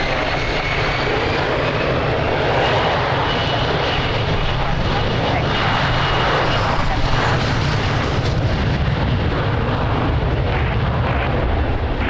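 Airplane taking off from runway 02 at Lisbon Airport in strong wind, a loud, continuous engine roar that holds steady throughout, with tower radio talk running over it.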